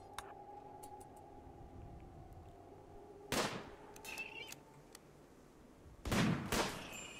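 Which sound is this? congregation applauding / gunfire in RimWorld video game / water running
gunfire in RimWorld video game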